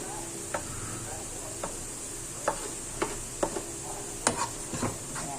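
Chorizo pieces going into a pan for fried rice, with a steady low sizzle under scattered sharp ticks and scrapes of a utensil against the pan, close and fairly quiet.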